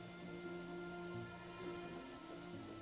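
Light drizzle in the video game Trine 4, a soft continuous patter of raindrops layered over steady tonal game music, quiet and even throughout with no talking.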